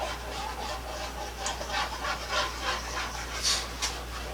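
A small dog pants quietly and lets out soft, high whimpers in short repeated bursts, faint and close, with no talking over it.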